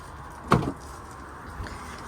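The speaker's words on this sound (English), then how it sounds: "so if you open up the back two doors" A single sharp thunk as the rear doors of a 2022 Hymer Free S600 camper van are opened, followed by a softer knock a second later, with no talking.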